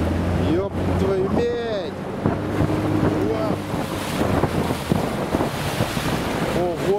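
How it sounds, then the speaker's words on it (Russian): River rapids on the Chuna River roar as a steady, loud rush of water, with wind buffeting the microphone and scattered voices calling out over the torrent. "Ого, тут пороги."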